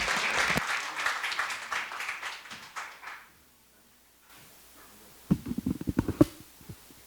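Conference audience claps to welcome a professor onto the stage: a dense round of applause fades out after about three seconds, a quiet pause follows, then scattered claps and handling thumps return near the end.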